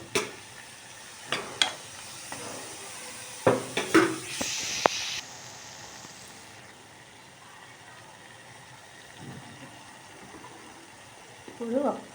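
Mutton curry being stirred in a pan: a cluster of close scraping clinks and knocks over a soft frying sizzle, then a quieter stretch of low hiss with a few light taps near the end.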